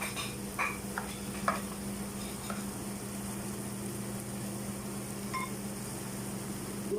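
Pancit canton ingredients stirred in a frying pan, faint sizzling under a steady low hum, with a few light clinks and scrapes early on, then a quieter stretch.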